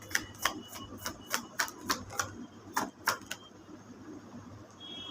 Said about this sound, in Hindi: let me shuffle and find 3 cards